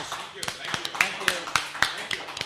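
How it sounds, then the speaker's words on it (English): Scattered claps from a small group in a radio studio, uneven and close, under people talking. "Let's give him another round of applause"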